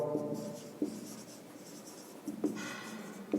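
A pen scratches across paper as a maths solution is written out by hand, with soft intermittent strokes and small taps, close and quiet.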